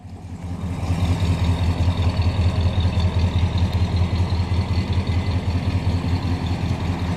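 A 1967 Chrysler Newport sedan's 383 V8 idles nearby with a steady, loping low rumble, its pulses rising at the start then holding even throughout.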